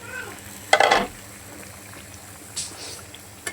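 Pieces of bottle gourd dropped into hot oil in a pan, a sudden loud burst of sizzling that quickly settles into a faint low hiss, followed by a couple of brief stirring scrapes.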